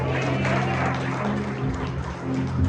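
A church congregation claps together during a Spanish-language sermon, a dense, steady wash of applause over a low sustained organ or keyboard tone, loud and close throughout.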